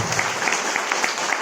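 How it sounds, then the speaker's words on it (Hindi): A church congregation claps loudly together, a dense, steady burst of applause that fills the room. "ताली बजाओ जोर से।"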